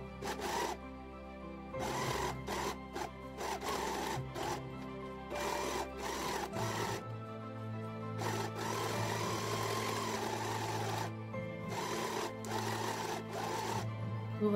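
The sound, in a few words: overlock sewing machine stitching a knitted snood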